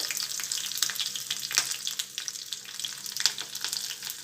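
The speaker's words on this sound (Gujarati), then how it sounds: "1 ચમચી રાઈ નાખીશું. રાઈ તતળે એટલે આપણે એમાં લીલા મરચાં મેં લીધા છે." Mustard seeds and chopped green chili sizzle and crackle in hot oil for a khandvi tempering, a steady close hiss with scattered sharp pops from the seeds.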